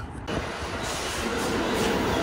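A New York subway train in Brooklyn rolls into the station, a loud sustained rumble of wheels on rail with rising metallic hiss and squeal, filling the platform steadily without any talk.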